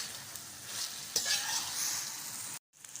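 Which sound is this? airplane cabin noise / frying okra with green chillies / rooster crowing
frying okra with green chillies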